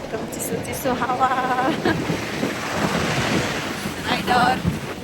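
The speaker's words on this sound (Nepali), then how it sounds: "एकदम चिसो चिसो हावा" Cold wind blows hard in Kathmandu, a steady loud rush of wind noise across the microphone, with brief voice-like tones breaking through.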